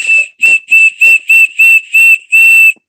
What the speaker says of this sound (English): this whistle is great. It's one of my favorites. Very loud.